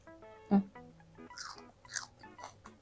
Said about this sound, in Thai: กินเพลินๆนะทุกคนนะ